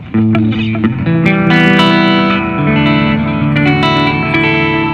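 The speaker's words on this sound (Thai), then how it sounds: "เสียงคลีนฮะ" An electric guitar through a Boss GX-100 on a clean tone plays a sustained, ringing phrase of chords and notes with a spacious, echoing tone, loud and close, with no voices.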